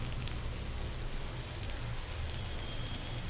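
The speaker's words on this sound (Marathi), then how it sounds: "आता आपण कढीपत्ता टाकून घेऊ" Curry leaves go into a hot tempering for a dal and vegetable sambar with tomato and onion, and a dense, crackling sizzle holds steady and close, like light rain, with no talking.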